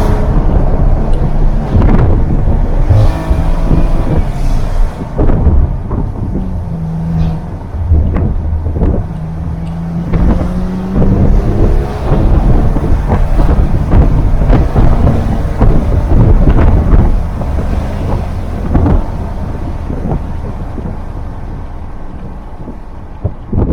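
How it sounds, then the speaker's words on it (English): A Maserati Levante S in sport mode, exhaust rumbling loudly throughout a long drive, with heavy low-frequency roar, wind buffeting and intermittent pops and crackles, close and continuous with no talk. "put in the sport mode. You hear the exhaust there."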